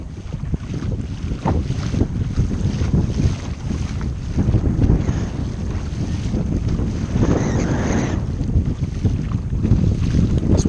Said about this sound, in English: This wind is really picking up.